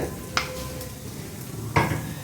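Chickpeas being mixed in a pan over a soft, steady sizzle, with two distinct scraping clinks of a utensil against the pan.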